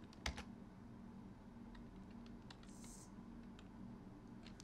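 Computer keyboard typing, a quiet run of close light key clicks scattered over a few seconds above a low steady room hum.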